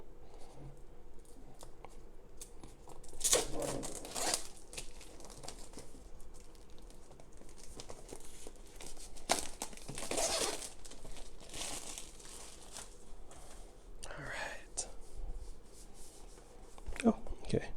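A plastic-sealed DJI Osmo Mobile 6 box being broken open, with close crinkling and tearing of plastic wrap in several bursts and scratchy rustles between them, faint throughout.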